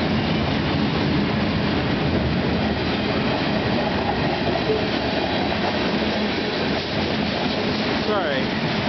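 CN freight train number 395 rolls past at Bayview Junction in a steady, loud, continuous rumble with wheel clatter. It is close and fills the whole stretch, with a brief squeal near the end.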